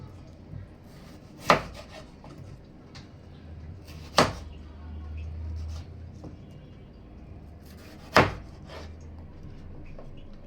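Onions, green chilies, tomatoes and potatoes being sliced on a board in a home kitchen, with three sharp, widely spaced knife strikes over quiet rustling and handling noise.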